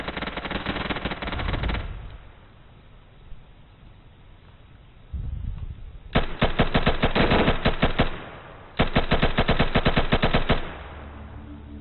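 Bursts of rapid automatic gunfire from an Insurgency firefight, two long loud volleys of sustained shots after an earlier short burst, with quieter ambient stretches between.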